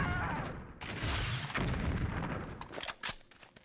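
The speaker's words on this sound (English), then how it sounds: "I got distracted there watching all the pretty explosions" Explosions boom through the game Dark Forces II: Jedi Knight, with rumbling blasts and gunfire-like bursts that come in loud, dense waves over a few seconds.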